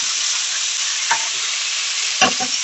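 Broccoli, bell pepper, cabbage and carrot stir-fry for yakisoba in a hot pan, giving a steady close sizzle with a couple of brief clattering stirs and scrapes.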